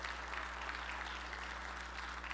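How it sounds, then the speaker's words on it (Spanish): A church congregation applauds together, a faint, steady wash of clapping heard over a low constant electrical hum. "Denle un aplauso a Jesús,"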